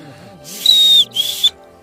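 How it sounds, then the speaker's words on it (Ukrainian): A small whistle blown twice near the microphone, a long shrill blast followed by a shorter one, over faint background hum. "Ось так свистить свисток."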